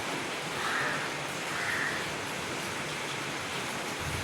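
Steady rain hisses softly, swelling slightly now and then, faint and continuous with no voices.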